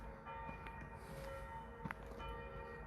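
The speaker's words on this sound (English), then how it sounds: "But at least you have the bells." Church bells ring in Switzerland, sustained tolling tones sounding somewhat distant and faint over a low background rumble, with no talking.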